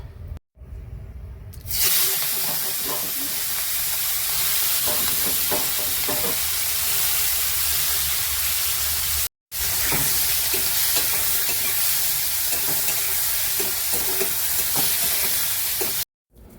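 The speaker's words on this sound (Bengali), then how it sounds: "এবার পটল ভাজার তেলের মধ্যে চিংড়ি মাছ দিয়ে দেবো" Prawns frying in the oil left from frying pointed gourd, a loud steady close-up sizzle with occasional stirring scrapes, briefly cut off twice, with no voices.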